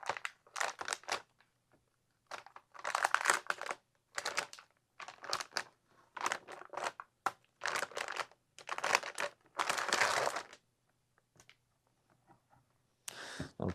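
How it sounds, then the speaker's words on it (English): A plastic bag crinkles in repeated short bursts while computer parts are unpacked for a gaming PC build, with quiet gaps between handlings, close and fairly loud, and no talking. "This is crinkling."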